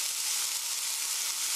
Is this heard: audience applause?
no